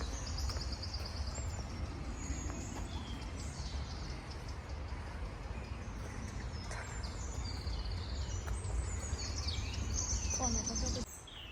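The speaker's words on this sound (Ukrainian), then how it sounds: "Відчуваєте, як співають пташки?" Small birds chirping and singing among the tulip beds of Keukenhof garden in the Netherlands, bright scattered calls over a steady outdoor hum of wind and distant activity, with faint voices in the background.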